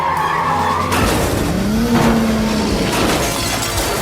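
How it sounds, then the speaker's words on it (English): Car braking hard and skidding during a video game ambush chase, a loud tire screech sliding in pitch over continuous engine roar and crashing impacts, with no talk. "Oh no! Brake!"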